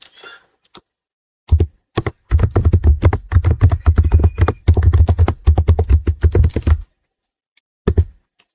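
Rapid bursts of keystrokes as a comment is typed on a computer keyboard, close and fairly loud, with brief pauses between runs of taps and no talking.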